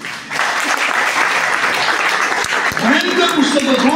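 An audience at a book-narration competition in a social work college claps loudly in sustained applause. A voice speaks over it near the end.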